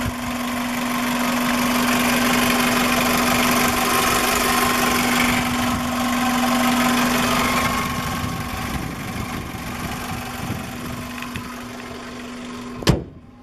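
A car engine idles steadily with a low constant hum and faint mechanical ticking, heard up close under the open hood, easing slightly quieter toward the end before a sharp click or thump.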